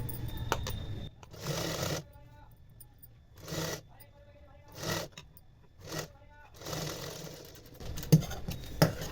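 A sewing machine stitches a long blouse in several short, rapid bursts separated by pauses, close and fairly quiet.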